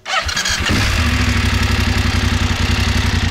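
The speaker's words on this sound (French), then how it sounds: "Il est temps de la démarrer, d'écouter un petit peu la sonorité de ce bicylindre" A BMW F850 GS twin-cylinder motorcycle fitted with an Akrapovic silencer starts up and settles into a loud, close, steady idle with a pulsing low rumble and mechanical clatter, heard alone.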